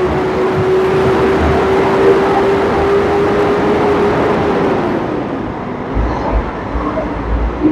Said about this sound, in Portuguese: E vocês ficaram com o ronco do motor,